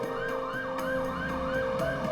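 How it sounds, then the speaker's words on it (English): Ambulance sirens wail loudly in a continuous rising and falling pattern, with repeated swooping cycles and steady tones layered together, heard on their own with no talking. "The sound of ambulances were a common and terrifying reminder."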